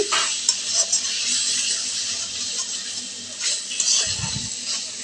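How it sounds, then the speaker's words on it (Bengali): Potatoes sizzle steadily in hot oil and fried spices while a utensil scrapes and stirs through the pan, with a few louder knocks against the pot. "আলু দিয়ে একটু নেড়ে চেড়ে নিচ্ছি"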